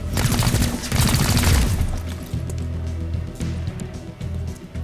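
Gunfire in XCOM: Chimera Squad: a loud, dense volley of shots and booms that decays into a lingering low rumble with scattered fainter cracks.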